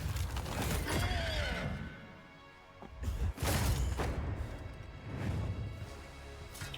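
A horse in the game Prince of Persia: The Lost Crown gives a short whinny amid heavy combat clashes, crashes and creaking mechanisms that recur through several loud bursts, with no voices.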